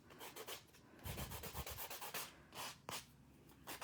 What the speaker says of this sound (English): Autumn, I like to use the drill in the buffer because I like the finish of the buffer versus the drill